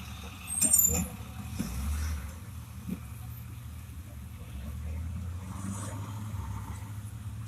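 A truck rumbles low and close as it is pulled over by officers, with a hiss of air brakes and other traffic passing amid the steady engine drone.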